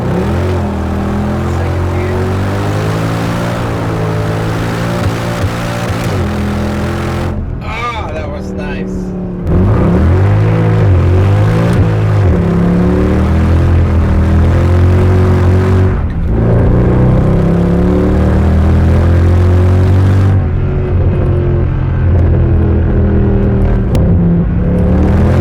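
A Mercedes W204 C63 AMG with the M156 6.2-liter naturally aspirated V8 snarls and revs loudly, steady deep engine drone rising and falling through gear changes, close and dominant, with someone talking over it.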